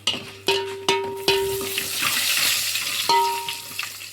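Mustard and other spices crackle and sizzle in hot oil while tempering for a drumstick dal stew, with several sharp metallic taps of a utensil against the pan near the start and again later.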